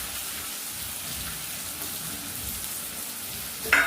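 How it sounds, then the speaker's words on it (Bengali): Chopped tomato dropped into a hot pan for mutton curry, sizzling and frying as a steady, rain-like crackle throughout, with a brief louder hiss at the end. "এবার টমেটো কুচিটাও দিয়ে দিচ্ছি।"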